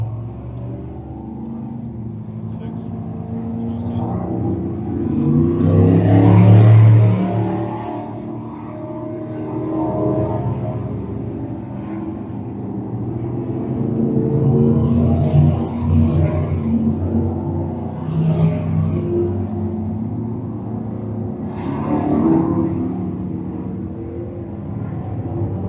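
Race cars at Can Am Speedway rumble and rev in a heat race, engine roar swelling loud around six seconds, then rising and fading again in waves as the field passes, steady and close throughout.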